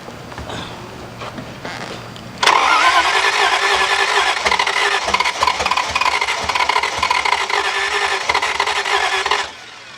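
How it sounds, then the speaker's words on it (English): A 1951 Chrysler Saratoga limousine's Hemi V8, run without exhaust, cranks and roars to life at about two and a half seconds, then runs loud and raw with a harsh, rumbling idle that fills the rest. "That's that Hemi kicking in like that."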